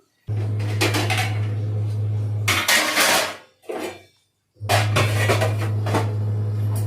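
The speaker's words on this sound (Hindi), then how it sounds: "तो जो मैंने बर्तन रखे थे जाली में, तो उसको लगा दी हूँ।" Utensils and dishes being set into a kitchen dish rack clatter and clank in uneven bursts over a constant low machine hum, with a brief gap in the middle and no speech.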